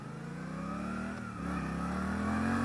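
A 2023 Suzuki GSX-8S motorcycle accelerating, its engine note rising steadily in pitch and growing louder as the throttle is held open, close to the listener.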